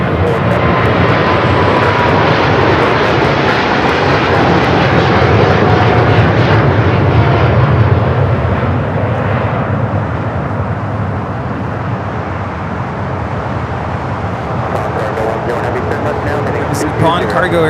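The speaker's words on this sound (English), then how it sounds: "Nippon Cargo Airlines 101 taking off to Tokyo Narita on the 747-8 freighter." A Nippon Cargo Airlines Boeing 747-8 freighter takes off from LAX with a loud, sustained jet engine roar that slowly fades, while voices talk over it throughout.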